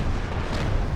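Weapons fire and an explosion in a starship battle in the Star Trek Online video game, a dense, loud rumbling boom that fills the full second without a break.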